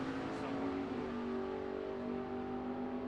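A vintage 426 Dodge Coronet Mopar drag car launches at a drag strip, its engine a steady, loud, harmonic roar that holds through the run, heard from a distance with faint crowd and announcer sound.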